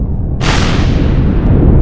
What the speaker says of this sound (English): Your primary weapons obviously are going to be these 2 epic rocket launchers.